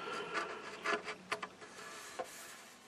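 Sandpaper rubs by hand along the grain of the wooden top of an Admiral 19A15 radio cabinet in short back-and-forth strokes, giving soft, uneven scratchy bursts close by with no talking.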